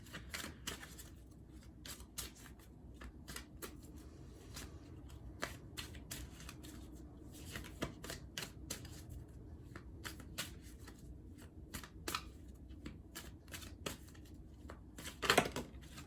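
Tarot cards shuffled by hand in a steady run of soft riffling flicks with a louder burst near the end, with no talking.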